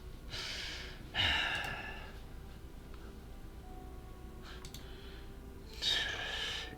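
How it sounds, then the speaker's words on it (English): Snoring in the video game Trails in the Sky, two drawn-out breathy snore sounds several seconds apart over a quiet background, fairly soft and alone. "I could have sworn I heard a snore and a snore"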